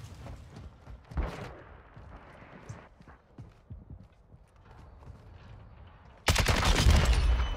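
Gunfire in a Modern Warfare 2 multiplayer match: scattered sharp shots and clatter early on, then a loud, dense sustained burst of fire close up at the end, with no talk.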